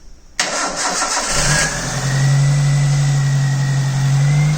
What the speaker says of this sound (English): what happens when we crank. Ignition on, and